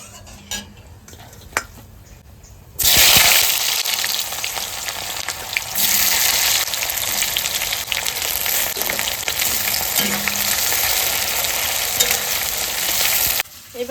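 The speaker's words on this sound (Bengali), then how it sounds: "পেঁয়াজটা তাড়াতাড়ি ভাজা হয়ে যাবে।" Chopped onion hits hot oil with a sudden loud sizzle that keeps crackling steadily, while a utensil stirs and scrapes against the pan now and then; earlier, quieter kitchen clinks precede it.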